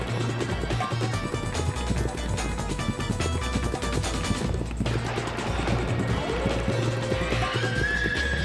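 A horse in a Roblox racing game neighs and gallops, steady clip-clop hoofbeats running continuously under game music with a loud whinny near the end.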